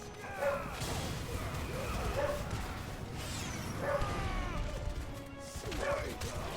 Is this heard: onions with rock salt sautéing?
no